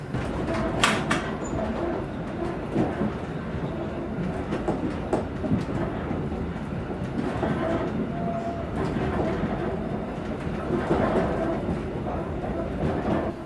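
A train on the Bydgoszcz–Piła line, heard from the driver's cab as it approaches Nakło station, gives a continuous rumbling roar with rattles and faint rail clicks, steady and close throughout.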